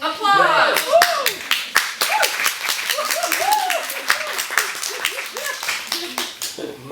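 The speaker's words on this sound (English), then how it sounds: "Applause!" A theatre audience claps for a comedic stage performance, with distinct individual hand claps sounding close and fairly loud while a voice speaks animatedly over them.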